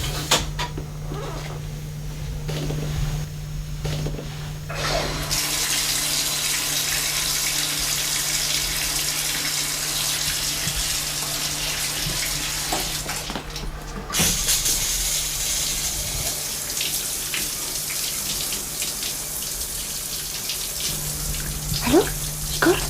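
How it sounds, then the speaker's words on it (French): Water runs steadily from a shower for a long stretch, a continuous hissing spray with a low steady hum beneath and a few faint knocks, heard alone without talk. "Il est en train de prendre sa douche."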